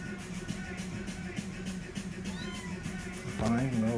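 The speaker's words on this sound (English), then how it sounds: "So I have a cat." A house cat meowing a few times over a steady low background hum, ending with a louder, longer meow near the end, with no talking.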